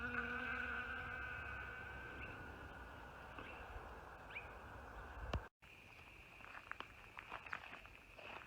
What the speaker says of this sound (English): the bees are coming in for all the pollen that it produces